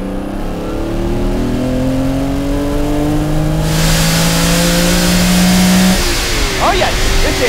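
Lamborghini Countach engine revving and driving away, a loud steady drone with rising pitch as it accelerates through gears, close and continuous throughout.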